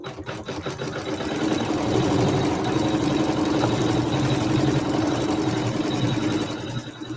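Embroidery sewing machine stitching a Christmas tree quilting design, a steady loud mechanical whir with rapid needle chatter running continuously throughout.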